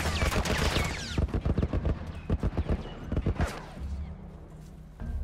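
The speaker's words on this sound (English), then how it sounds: "Stop shooting me!" Enemy gunfire in The Last of Us game: a burst of rapid sharp shots near the start, then a run of loud, closely spaced reports, with a further single shot near the end.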